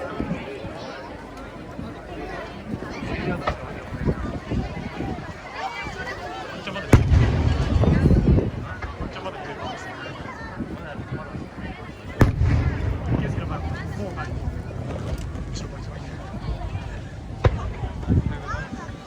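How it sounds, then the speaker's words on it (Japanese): Fireworks at a large competitive display in Oyama, Tochigi, Japan, with frequent distant booms and crackles, and heavier thumping bursts around the middle, under an announcer and crowd chatter. "最初の花火は北海道から株式会社海洋科研、作品名は栄枯盛衰です。"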